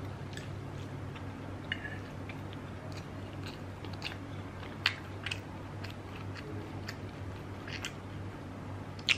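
Close, soft chewing of a Nigerian breakfast dish, with faint wet bites and small clicks over a low steady hum, no talking.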